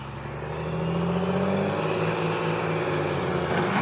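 A John Deere tractor engine working in rough brush, its steady motor drone swelling slightly as the throttle opens and then holding a loud, sustained rev throughout.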